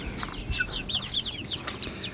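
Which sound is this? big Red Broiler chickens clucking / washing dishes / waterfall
big Red Broiler chickens clucking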